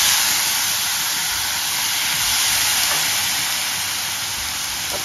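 Water sprinkled into a hot pan on a medium flame, over a mango and jaggery mixture, gives off a loud, steady steaming hiss that holds evenly throughout with no talk.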